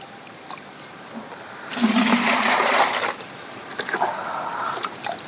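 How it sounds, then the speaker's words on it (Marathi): A burst of water pours and splashes for about a second, loud and close, followed by softer trickling and faint background noise. "पाणी ओततो का"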